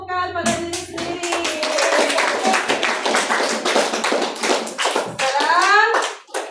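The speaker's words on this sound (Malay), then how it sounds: "Berikan tepukan pada diri sendiri." Children in a classroom clap their hands together in a dense, lively burst of sharp claps lasting several seconds, with a teacher's voice at the start and young voices calling out near the end.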